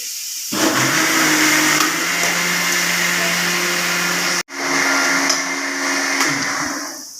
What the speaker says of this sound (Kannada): ಪಾಲಕ್ ಸೊಪ್ಪು, ಕೊತ್ತಂಬರಿ ಸೊಪ್ಪು, ಗೇರು ಬೀಜ, ಈರುಳ್ಳಿ ಟೊಮೆಟೊ, ಬೆಳ್ಳುಳ್ಳಿ, ಕಾಯಿಮೆಣಸು, ಕೊತ್ತಂಬರಿ, ಈತು ಪಾರ್ದು ಮಿಕ್ಸ್ ಮಾಡ್ತೀವಿ